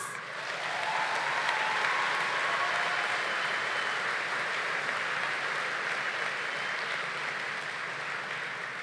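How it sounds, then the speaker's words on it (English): Graduates at a medical sciences graduation ceremony give a sustained round of applause, an even, distant-sounding wash of many hands clapping in a large hall. "how about a round of applause for us?"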